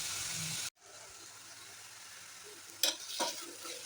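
Tomatoes and green chillies sizzle softly in a pan of frying masala for egg biryani, a steady low hiss with a brief break and a couple of stirring scrapes near the end.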